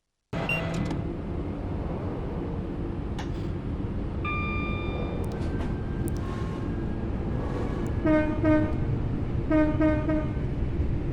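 A Class 323 electric train in a train simulator game on a Manchester Piccadilly to Crewe route rumbles steadily, then sounds its horn in a few short two-tone blasts near the end, loud over the running noise.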